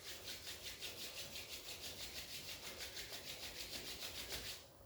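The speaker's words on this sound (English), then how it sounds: "Rub your both palms together." Palms rub briskly together in a rhythmic back-and-forth swish, about four strokes per second, close and quiet, during a yoga and pranayama class in Bali; no speech.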